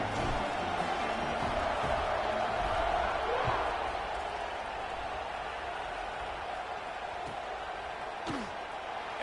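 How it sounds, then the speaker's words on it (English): Stadium crowd in a college football video game, a dense, steady roar of many voices filling the whole stretch at moderate loudness, with a few brief thuds and sharp accents over it. "this crowd now ready to get behind them"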